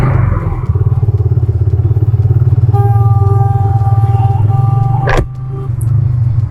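A motorcycle engine runs close by with a steady, throbbing rumble, and a single sharp thump sounds near the end. There is no talk.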